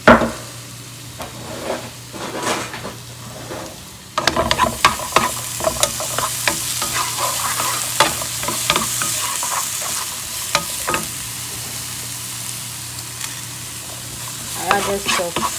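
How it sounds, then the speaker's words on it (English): Chopped onion and garlic stir-fried in olive oil with salt for a mushroom chicken soup: a spatula scrapes and taps repeatedly over a continuous sizzle, close and fairly loud. "I added salt to stir fry the onion"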